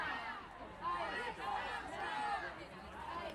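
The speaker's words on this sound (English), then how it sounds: "Crowd's really going." A large protest crowd against immigration enforcement in the US, a steady distant hubbub of many voices with shouts rising and falling, fairly faint throughout.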